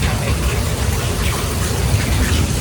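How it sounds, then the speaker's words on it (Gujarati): Heavy rain pours down steadily, a loud dense hiss of drops with no pauses. "બેકગ્રાઉન્ડના અવાજથી જ તમને ખ્યાલ આવી ગયો હશે કે કેવો વરસાદ આવી રહ્યો છે"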